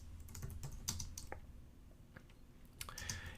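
Someone types on a computer keyboard nearby, a short burst of scattered key clicks and taps with brief pauses and no talking.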